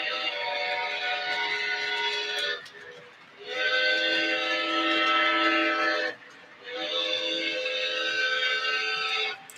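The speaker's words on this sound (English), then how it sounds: "the engine we're running tonight was built about 10 years ago" A Lionel model train engine about ten years old sounds its whistle in three long blasts with short gaps, a bright steady chord running over a faint rumble, moderately close and with no talk.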